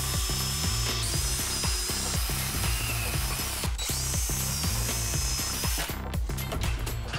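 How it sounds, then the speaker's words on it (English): A power drill boring holes into kitchen cabinets to fit under-cabinet lighting, with repeated bursts of motor whine and grinding, close and loud, broken by brief pauses between holes. "I'm gonna start drilling"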